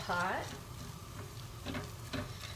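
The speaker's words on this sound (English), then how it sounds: "I'm gonna start to give it a good stir, coat it evenly with that sesame oil" Paleo fried rice frying in sesame oil is stirred with a spatula, producing a low sizzle and scraping strokes; a brief voice sounds at the start before the cooking noise continues.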